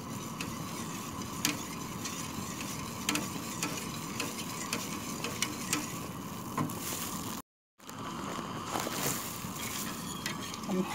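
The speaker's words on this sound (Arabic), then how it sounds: "هنحاول نقلب كده واحدة واحدة على النار." Hot chocolate stirred steadily in a pot on the stove, a continuous soft scraping and bubbling hiss with faint utensil clicks, close and fairly quiet, briefly cut out near the end.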